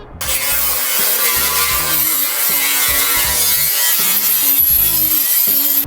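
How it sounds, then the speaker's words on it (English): An angle grinder cleans up the cut edges of a metal wheel tub opening on a C10 pickup, grinding loudly and continuously with rhythmic scraping passes. "go ahead and use your grinder to clean up the edges"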